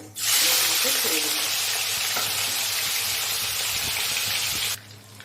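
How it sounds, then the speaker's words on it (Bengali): Salted prawns fry in white oil in a wok, giving a loud, close, continuous hiss of sizzling that starts abruptly and cuts off near the end, with faint stirring clicks beneath. "দেখুন চিংড়ি মাছ আমার ভাজা হয়ে গিয়েছে"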